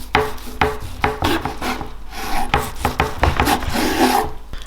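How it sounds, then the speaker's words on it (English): A knife slices through a Texas-style smoked turkey in a quick series of separate rasping cuts, close and fairly loud, with no talking. "So let's just cut some slices."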